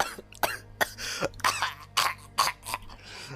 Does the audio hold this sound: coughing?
yes